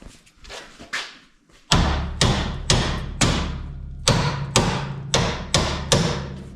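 A big hammer pounds a rusted rear brake drum on a Ford LTD, about a dozen heavy metallic thuds in a steady rhythm, loud and close, with lighter taps at the start.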